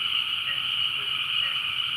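Frogs calling at night from a backyard, a steady high chorus that runs throughout with no pauses, moderately loud and alone without talk.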